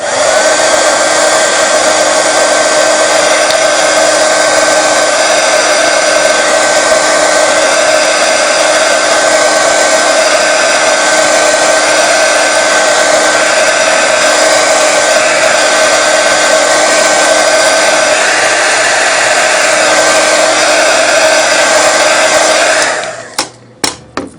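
A heat gun blows steadily on strips cut from a plastic water bottle, a loud even whooshing hum with a fixed whine that runs unbroken and then cuts off with a few faint knocks.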